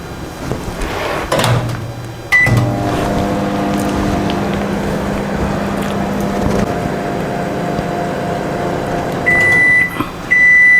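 A microwave oven runs to bake gupchup vadi made from wheat flour, giving a loud steady hum with a low drone, broken near the start and end by clicks and a door or button sound.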